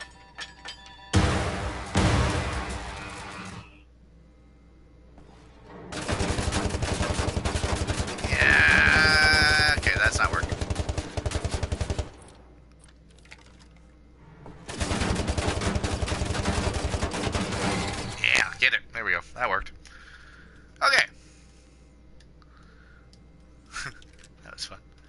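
Gunfire from the video game Wolfenstein comes in long dense bursts of rapid shots, loud and sustained for several seconds at a time, separated by quieter gaps, with a few isolated sharp pops near the end.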